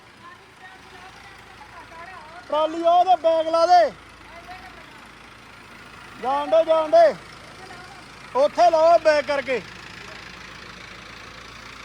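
A heavy tractor engine idles steadily throughout while several voices talk loudly in short bursts over it.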